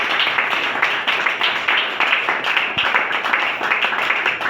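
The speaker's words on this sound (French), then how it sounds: "la féliciter, et l'applaudir sous vos ovations effrénées" An audience at a trophy ceremony applauds an award recipient with dense, sustained clapping, steady and fairly loud throughout.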